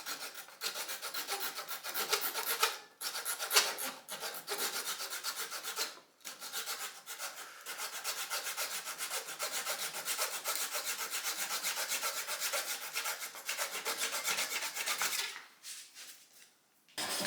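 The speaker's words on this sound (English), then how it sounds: "I was cutting the infill using a dowel saw." A dowel saw cuts through wooden infill with a steady run of close, raspy back-and-forth strokes, briefly pausing between passes and tapering off toward the end.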